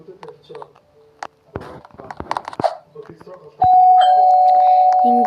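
A doorbell rings in a Roblox game, a loud sustained chime that sounds out clearly after a stretch of scattered game noises and someone speaking.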